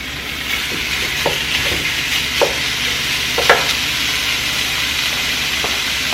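Chuck steak frying in a pan for carne guisada, with a steady loud sizzle throughout and occasional clinks and scrapes from stirring, close up and without talk.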